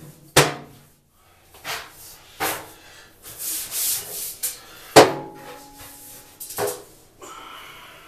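A small brush scrubbing a bathtub, heard as several separate bursts of rough rubbing and scraping strokes with short pauses between them, close and fairly loud, with occasional knocks against the tub.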